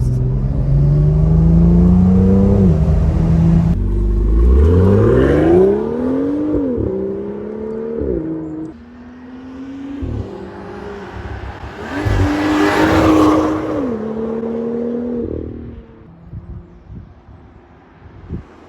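A loud 2017 BMW M2 engine revs repeatedly outside, pitch climbing and dropping through several gear-like sweeps, then settling to a quieter idle.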